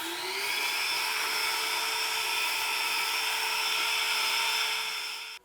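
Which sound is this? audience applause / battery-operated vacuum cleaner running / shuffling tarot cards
battery-operated vacuum cleaner running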